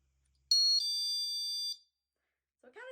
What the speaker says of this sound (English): it also works like a door chime